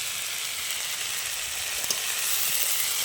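Kulfi greens, seasoned with salt, turmeric and a little sugar, frying in a pan: a steady, close, even sizzle with no talking.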